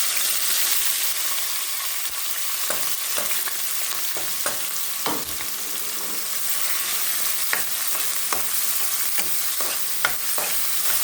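Onions hit hot oil already seasoned with bay leaf, garam masala and cardamom in a home kitchen, giving a steady close sizzle with scattered stirring clicks and scrapes throughout.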